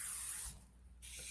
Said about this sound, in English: I like to just spray everything so that it can obviously coat, eat away anything that's there,